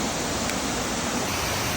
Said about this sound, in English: About a 40-foot waterfall over there.